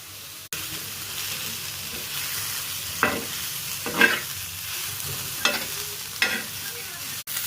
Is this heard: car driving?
no